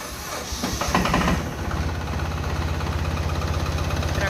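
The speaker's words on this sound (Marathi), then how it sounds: "आता मी तुम्हाला या ट्रॅक्टरची फायरिंग ऐकवणार आहे मित्रांनो।" A Captain 280 4WD tractor's two-cylinder engine fires up and settles into a steady, close, rhythmic idle, with rougher revving in the first second and a clear pulsing chug throughout.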